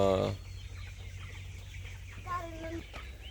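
Backyard chickens kept at a relative's house give a few clucks and short warbling calls late on, over a low steady hum and light background noise, with a voice briefly present.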